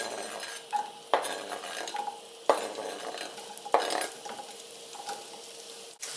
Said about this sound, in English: let me just add some of my olive oil. Let me add my onion.